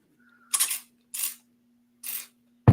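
A handheld garden pump sprayer is pumped in three separate short strokes, each a brief airy hiss against a quiet background with a faint steady hum.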